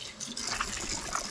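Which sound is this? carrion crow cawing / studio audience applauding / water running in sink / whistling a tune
water running in sink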